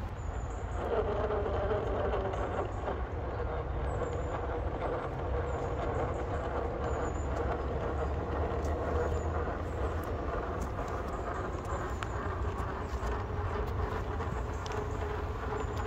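Hobbywing Fusion Pro 2300kv brushless motor in an RC crawler, driven slowly then at full throttle, giving a steady broadband whirring and rumbling drive noise throughout, with no talk.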